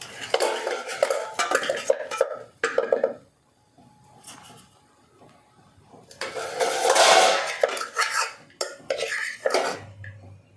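Rice spooned onto a plate, with several bursts of metal spoon scraping and clinking against dishware, separated by quiet pauses and a longer busy stretch of scooping later; close and fairly loud.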